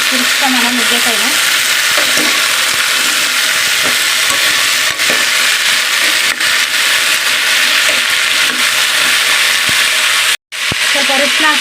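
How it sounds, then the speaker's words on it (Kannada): Drumsticks and potatoes stir-fried with onion and garlic in a home-style seasoning, a steady loud sizzle with scraping stirs throughout and one brief cut near the end. "ತಿರ್ಸ್ಕೊಳ್ಳೋಣ ನುಗ್ಗೆಕಾಯಿನ."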